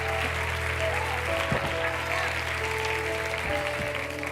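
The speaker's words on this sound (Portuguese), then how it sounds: "Aplauda mais forte o Senhor, Ele é digno." A church congregation at a conference applauds steadily in a sustained wash of clapping, with voices and music underneath.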